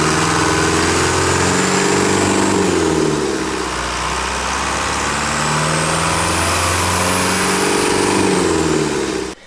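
A loud step van engine roars continuously up close while driving, its pitch rising and falling gently, with a heavy low rumble throughout.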